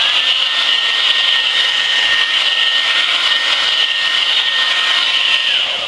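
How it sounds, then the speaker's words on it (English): A hair dryer blows steadily over stretched watercolor paper, a loud, constant whooshing whine that runs close and unbroken throughout, with no voices. "I use a hair dryer."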